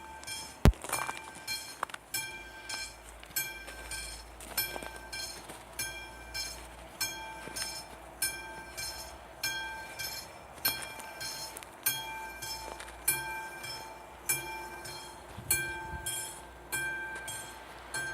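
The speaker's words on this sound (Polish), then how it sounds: "Jedzie piękny wlak." A train passes on a Slovak rail line at night, heard as a steady rhythmic clatter of wheels over rail joints, regular beats running throughout at moderate distance with a sharp click near the start.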